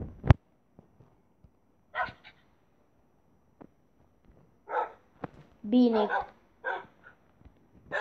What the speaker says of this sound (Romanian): Câinele ăsta chiar luptă.